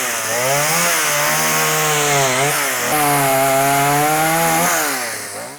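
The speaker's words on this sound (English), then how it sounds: "Here's Dennis Beach and a chainsaw" Chainsaw carving wood in Wapwallopen, Pennsylvania: a loud, close chainsaw engine drones steadily, its pitch dipping and rising as the blade bites into the wood, then trails off at the end, with no talking.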